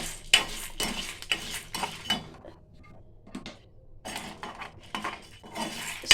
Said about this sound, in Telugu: దీంట్లోనే మనం ఎండుమిరపకాయలు ఒక 5-6 ఎండుమిరపకాయలు వేసుకుంటున్నానండి, కారానికి తగ్గినట్టు. ఇవి కూడా మంచిగా ఫ్రై చేస్తామండి.